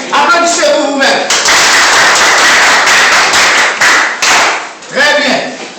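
A class applauding themselves during an oral French teaching seminar, a burst of close, loud clapping lasting a few seconds, with voices talking at the start and end.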